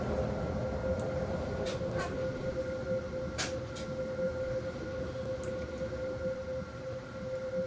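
A class 801 train runs in the Roblox SCR railway game, giving a steady, fairly quiet rumble with a constant tonal whine and a few brief higher chimes or squeals, with no talking.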